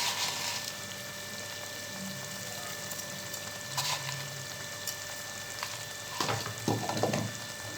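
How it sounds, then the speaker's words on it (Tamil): Brinjal and tomato gravy simmering and reducing in a pan, a steady soft bubbling sizzle throughout with a few louder stirring or spattering bursts toward the end. "இது நல்லா கொதிச்சு சுண்டி வரட்டும்"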